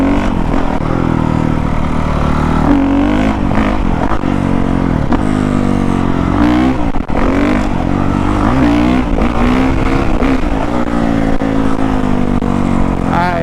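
A 2019 Honda CRF450R dirt bike runs in first gear, a loud, close engine whose pitch rises and falls as the throttle opens and eases off throughout, with a rider's voice talking over it.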